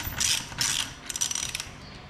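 A ratchet wrench with a socket tightens a wheel lock on a Jeep tire, giving a few close, loud bursts of rapid metallic clicking with no talk.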